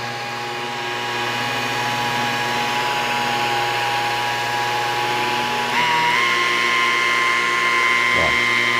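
A Lincoln polishing machine fitted with a double-face foam pad whirs with a steady motor hum, then its pitch jumps upward as the speed is raised from about 600 RPM toward higher rotation, loud and close throughout.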